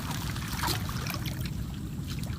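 Water dripping and trickling from a mound of earth by a freshwater fishpond, a soft continuous watery patter close by without talk.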